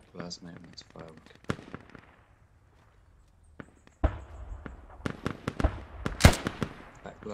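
Sharp bangs and crackling bursts of fireworks in the video game Squad go off in scattered clusters, loud and punchy, with a stretch of near silence in between. Voices talk over parts of it.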